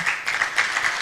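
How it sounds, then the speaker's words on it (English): An audience at an agritech innovation pitch day in Rwanda gives the ventures a round of applause: dense, even clapping that holds steady throughout, fairly loud and close, with no voices over it. "A very big round of applause to the ventures."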